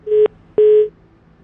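Two telephone keypad dialing tones, a short beep followed by a slightly longer one, sounding clearly and alone against quiet background.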